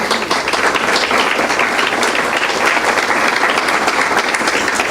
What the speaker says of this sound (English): please applaud one more time